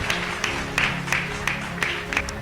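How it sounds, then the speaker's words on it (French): Congregation applauding during a church sermon, a steady wash of clapping with periodic sharper bursts, moderately loud and continuous with faint musical tones underneath. "Acclamons pour la parole."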